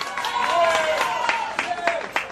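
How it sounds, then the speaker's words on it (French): Audience applause at a prize-giving final of a school competition in Saint-Marc, a broad steady wash of clapping with a voice faintly over it. "Applaudissez aussi Institution mixte Gérard Pierre-Charles"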